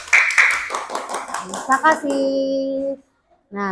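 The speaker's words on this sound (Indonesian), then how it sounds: "tepuk tangan buat presentasi kelompok kinestetik" Fifth-grade schoolchildren in a primary science class clap for a group presentation, a brisk patter of many hands under someone speaking, fading out before a pause.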